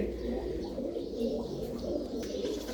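Pigeons kept by a hobbyist in Dheri, Khanna, coo softly and repeatedly in low, rolling throaty phrases. Several birds overlap close by against faint background noise.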